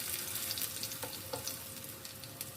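Kababs dipped in gram flour batter frying in oil, a soft, steady close sizzle with small bubbling pops and a faint clink or two, no voices.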